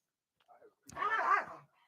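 Dogs bark and yelp close by, a short faint yip followed by one longer, louder, strained bark-whine, with quiet gaps around it.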